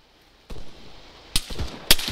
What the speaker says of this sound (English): I hear shotguns nearby, so to that's east